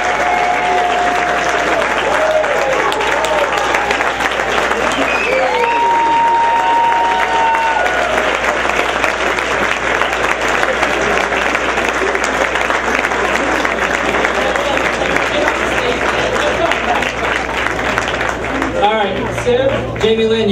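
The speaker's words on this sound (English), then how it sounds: "So please give them a huge round of applause." Sustained crowd applause at a 2014 festival awards gala, loud and dense for about twenty seconds with scattered cheers and whistles, and people talking through it near the end.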